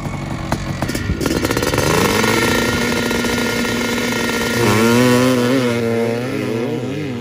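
A 500 two-stroke motorcycle engine runs close by, its ringing buzz climbing in pitch, holding steady, then revving again with wavering tone, loud throughout.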